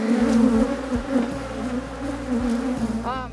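Honey bees swarm around an Alaskan beehive tens of thousands strong, a dense close-up drone of buzzing wings holding steady throughout with no talk.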